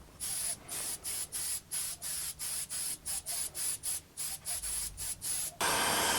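Aerosol spray paint hisses in about fourteen short bursts with brief gaps, building a coat on a 1987 Kyosho Cosmo RC car body, then one longer continuous spray at the end; close and loud, no talking.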